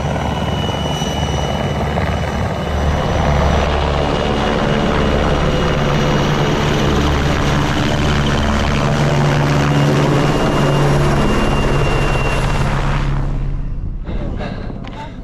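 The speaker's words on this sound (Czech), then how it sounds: "Už letí vrtulník." Helicopter flying over the Polish Tatra mountains during an extreme mountain running race, its loud, close rotor drone holding steady for a long stretch before cutting off abruptly near the end.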